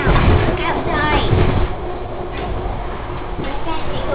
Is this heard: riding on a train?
yes